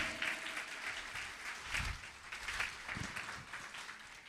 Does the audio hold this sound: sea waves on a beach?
no